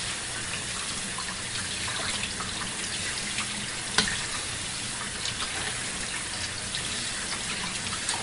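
Tap water runs in a steady, close hiss as rice is rinsed of its starch, with one small clatter partway through.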